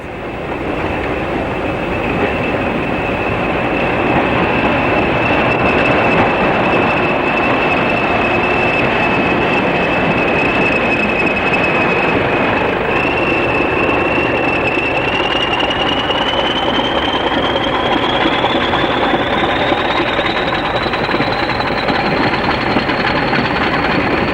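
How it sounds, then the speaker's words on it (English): British Rail Class 40 diesel locomotive arriving at and departing Settle station heading south, a loud continuous engine roar with a steady whine that rises in pitch as it pulls away, no voices. "the Loco arrives and then departs Settle, heading south"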